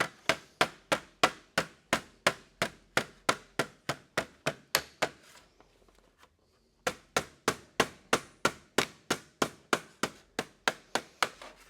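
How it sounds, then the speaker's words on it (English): A light hammer taps a sheet metal HVAC duct elbow with a radiused heel: a crisp, evenly paced run of ringing metallic strikes, a short pause, then another steady series, close and clear with no talking. "Sometimes a light hammer and a light strike is more appropriate than a heavy hammer."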